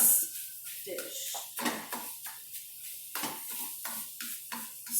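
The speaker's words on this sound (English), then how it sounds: "to let it sizzle and cook and brown" Sausage browning in a pot for Zuppa Toscana, a soft sizzle under repeated clanks and scrapes of a utensil against the pot, with a voice talking throughout.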